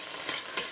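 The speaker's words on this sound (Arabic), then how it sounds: "اللحم كي نقليوه نقليوه هكذايا" Meat for kebab frying in a pan, a steady close hiss of sizzling oil with a couple of brief louder spits, no voices.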